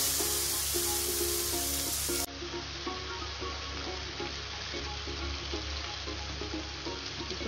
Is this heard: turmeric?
yes